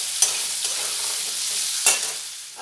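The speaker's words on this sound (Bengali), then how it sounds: "এবারে আলুগুলো খুব ভালোভাবে লাল করে ভেজে নেব।" Potatoes frying in hot oil give a steady, loud sizzle with a few sharp scrapes of a spatula stirring them in the pan, no voices.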